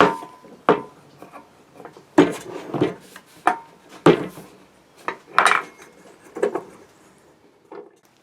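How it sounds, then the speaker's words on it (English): Clamps click, knock and scrape as glued guitar body boards lined with tape are clamped up, giving irregular close wooden and metallic taps and rubs, alone without speech. "So we'll just start to clamp all this up."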